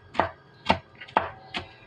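A knife slices through grilled squid with garlic on a board, four sharp, evenly spaced chops close up with quiet pauses between them.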